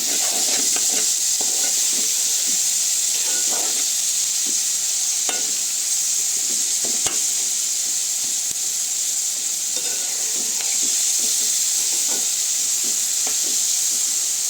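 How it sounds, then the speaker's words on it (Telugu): Small prawns fry in a pan with a constant bright sizzle and hiss, broken by occasional stirring taps, close and steady throughout with no talking. "వేగిపోయినట్టుంది. ఇంకా వేగాలి, ఇంకా బాగా వేగాలి."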